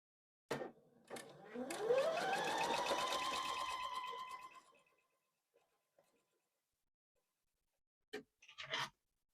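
A sewing machine stitches ribbon onto fabric for a small quilted ornament in a quiet room. One run of whirring stitches lasts about four seconds, then it goes quiet, with a few soft handling clicks at the end.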